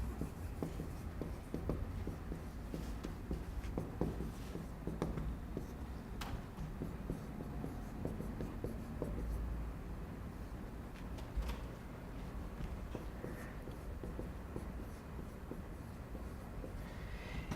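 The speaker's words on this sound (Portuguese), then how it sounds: "Então eu vou escrever aqui no quadro." Writing on a classroom board during a finance lesson: steady scratchy strokes and taps run for the whole stretch at a moderate level, with no talking.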